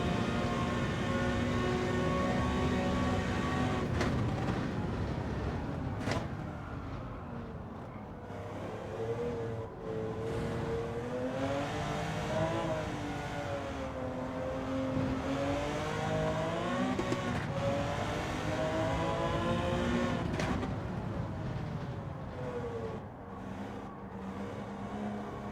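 High-revving race car engine in Gran Turismo 7 during a licence test, rising in pitch toward about 9,000 RPM, then dropping sharply at each gear change, with a few quick shifts and a sustained loud whine throughout.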